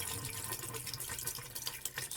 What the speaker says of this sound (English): And I'll pour some down in the P-trap under the sink